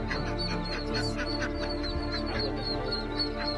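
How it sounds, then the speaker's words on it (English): Ducks quack repeatedly and fairly close by over a dense, continuous bed of noise, as a mother duck greets her ducklings after they were rescued from a storm drain. "Quacks of joy all around."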